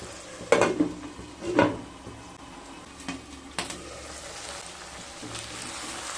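Spice paste for katla fish malai curry fried and stirred in a pan on low to medium heat, soft sizzling under a few distinct scraping and clanking stirs, close and moderate.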